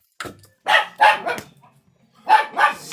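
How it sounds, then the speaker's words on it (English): Several dogs bark loudly and close by at home, a series of sharp separate barks in two clusters with brief pauses between them and no talk over them. "Sorry, my dogs are barking."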